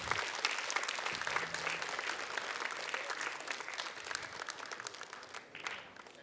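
A crowd at a Marhaban competition final awards ceremony applauds in a long, dense burst of clapping that fills the hall steadily, with a faint voice beneath it.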